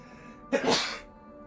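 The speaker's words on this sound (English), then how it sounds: "And I have to sneeze again." A single loud sneeze bursts out close by after a moment of quiet, then fades into near silence.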